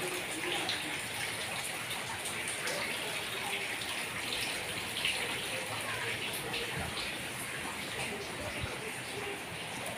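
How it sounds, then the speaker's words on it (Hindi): Rainwater leaks through a house roof into the kitchen during a downpour, a steady broadband splashing and trickling that keeps a constant, fairly quiet level with no talk over it. "ये छत से पानी आ रहा है ना।"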